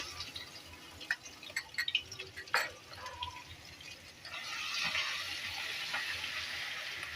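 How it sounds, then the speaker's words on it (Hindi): Garlic and ginger sizzle in hot oil for a beef paya tempering, with a few drips and clinks at first, then a steady, close frying hiss that swells midway and holds. "लहसुन अदरक फ्राई करेंगे अच्छी तरह।"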